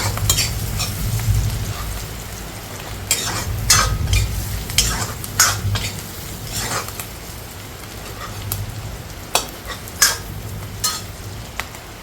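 Onions with salt fry steadily in a pan, a continuous sizzle broken by scattered stirring scrapes and clinks of a utensil against metal, close and fairly loud, with no one talking.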